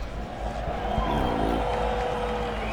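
A stadium crowd at a Formula Drift event in Atlanta cheers in a sustained roar that swells slightly, with a voice briefly audible over it.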